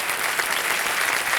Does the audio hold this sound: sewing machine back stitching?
no